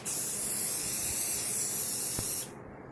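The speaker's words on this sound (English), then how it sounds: "if we go around to the barrel and hit that with spray paint" An aerosol spray paint can coats a toy gun in a steady, close hiss that runs nearly three seconds, then cuts off abruptly.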